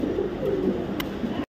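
Young racing pigeons from a 2024 club race coo in a low, throaty, continuous murmur, close by. A brief higher chirp cuts through midway.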